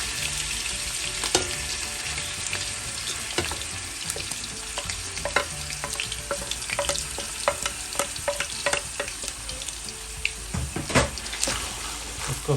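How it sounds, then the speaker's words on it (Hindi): Three chopped onions browning in five tablespoons of hot oil, a steady close sizzle with clinking stirring scrapes scattered through it and no voices. "अब हमने इसमें 3 प्याज डाल के इसको ब्राउन करते हैं।"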